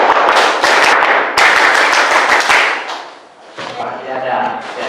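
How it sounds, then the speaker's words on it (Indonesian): A classroom of students performs the rhythmic Indonesian scout clap (tepuk pramuka), with loud bursts of many hands clapping in patterned groups, then a brief pause before clapping resumes more loosely beneath a voice. "Saya ulangi, tepuk pramuka."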